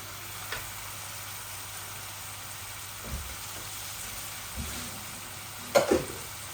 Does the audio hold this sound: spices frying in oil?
yes